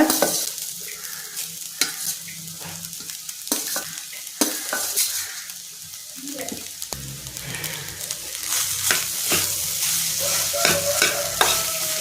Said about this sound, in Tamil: இப்போ நம்ம இந்த பவுடரை சேர்த்துட்டு லைட்டாக கிளறி விட்டால் போதும்